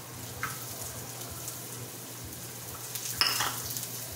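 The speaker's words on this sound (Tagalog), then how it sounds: "You saute" Onion sautés in oil in a pan with a faint, even sizzle and a couple of soft utensil clinks, heard close.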